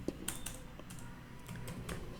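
Keys clatter on a computer keyboard while a file name is typed, a quick irregular run of light clicks, close and clear with no talk.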